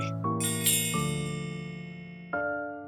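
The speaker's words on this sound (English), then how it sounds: "The bell rings to call me as I am smoothing the sheets" A bell rings to summon a maid, giving a few bright chiming strikes with long ringing tails that fade out, sounding alone and up close.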